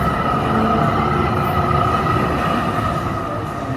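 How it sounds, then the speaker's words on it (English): A tram rolls past a cafe terrace, its steady rumble and rail hiss loud and close throughout, with no talking over it. "Tram."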